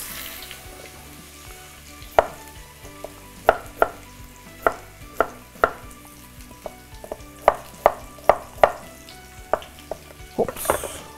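Potatoes cooking in a hot pan, a soft steady sizzle and hiss punctuated by a dozen sharp utensil scrapes and clinks against the pan at irregular intervals.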